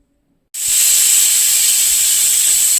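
A pressure cooker whistle lets out one loud, steady, high-pitched hissing shriek that starts abruptly and holds for over two seconds, with no voices.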